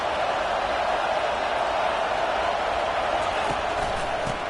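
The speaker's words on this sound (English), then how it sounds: "This crowd trying to show them what it's going to be like all day in this house." Football stadium crowd at a Colts game roaring steadily, a dense, loud and continuous wash of cheering and noise from thousands of fans with no pauses.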